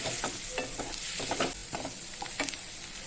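Potato fry with curry leaves stirred in a pan, a close, even sizzle broken by quick spatula scrapes and light metallic ticks against the pan.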